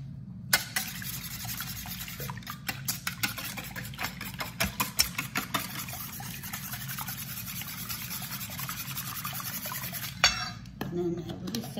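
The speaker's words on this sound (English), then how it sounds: "I'm gonna give that a little whisk" Whisk rapping against a bowl while sour cream and ginger ale batter gets mixed, a fast run of light metallic clicks over a steady engine-like hum in a kitchen without air conditioning, stopping briefly near the end.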